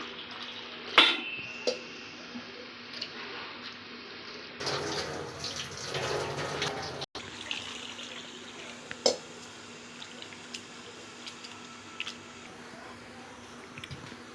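Flattened rice (aval) being washed and strained in a kitchen: running tap water, splashing and squishing, with a few sharp clinks of a vessel, moderately close throughout.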